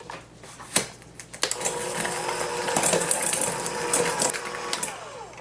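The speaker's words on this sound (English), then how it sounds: "I'm just going to cream that with my hand mixer" Electric hand mixer creaming sugar with cream cheese in a bowl, a steady close whirring drone with beaters rattling against the bowl, starting after a couple of clinks.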